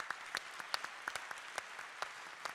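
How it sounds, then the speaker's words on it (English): An audience claps for young participants at a community gathering, a thin, fairly quiet patter with a few sharper individual claps standing out over a soft background. "Can we have a big round of applause for all of the young people who've taken part again?"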